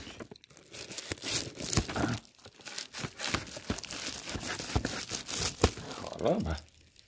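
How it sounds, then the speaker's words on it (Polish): Plastic foil wrapping being torn open by hand from a package of soup sachets, close-up bursts of ripping and crinkling in irregular pulls with short pauses. "Choroba się trzyma, ta folia."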